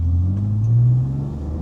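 A manual-transmission car engine hums and rises in a brief close rev, a steady low rumble swelling then settling, with no talking.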